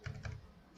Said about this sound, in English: And I will type npx